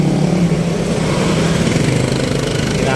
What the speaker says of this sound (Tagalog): puro motor na lang yung dumadaan